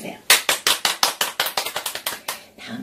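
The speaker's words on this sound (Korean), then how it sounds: "박수 한번 크게 해주세요" An elderly audience at a Korean senior lecture claps in unison, about a dozen sharp, loud claps quickening into a brisk steady rhythm before trailing off.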